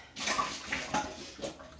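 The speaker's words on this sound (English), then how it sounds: "So I'm going to dump that water out." Hot water dumped out of a pressure cooker pot, a short splashing pour in a few uneven gushes, close and moderately loud, alone.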